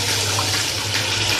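Water pours steadily and fairly loudly into a cooking pot of mashed onions, a continuous splashing rush with no speech.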